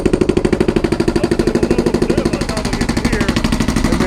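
A hydraulic hammer on a rented mini excavator pounds a concrete pad in rapid, even blows, loud and close, over the excavator's running engine.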